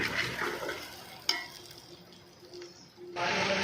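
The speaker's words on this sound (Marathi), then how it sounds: "आता आपण याला पण चांगलं परतून घेऊ." Ground coconut being stirred and fried in a masala curry for catering-style matki masala, a soft sizzle and scraping stir close by, with one sharp clink of utensil on pan partway through.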